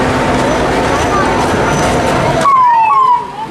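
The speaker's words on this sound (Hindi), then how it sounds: "मेडिकल की टीम, एम्बुलेंस।" Ambulance siren wailing at a late-night mourning procession in a district town, loud and close over dense crowd noise, with rising and falling tones clearest near the end as the din drops away.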